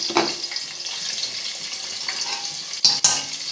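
Garlic ginger paste frying in hot oil for halwa puri chickpeas, a steady close hiss of sizzling with a couple of brief clatters near the end.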